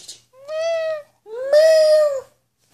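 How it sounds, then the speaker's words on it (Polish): A cat lets out two clear, close meows in a quiet room, the first short and the second longer and louder, with a brief pause between them. "On miałczy, bo to kot."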